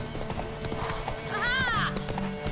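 Horse hooves clip-clopping in The Witcher 3, with a rising whinny in the middle of the clip, set against a busy background with voices.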